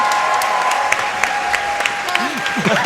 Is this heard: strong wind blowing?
no